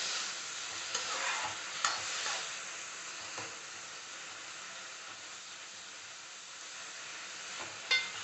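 Salted tomatoes cook in a pan for a tomato curry, giving a constant soft sizzle and hiss, with a few spoon clacks and scrapes against the pan at intervals and no talking.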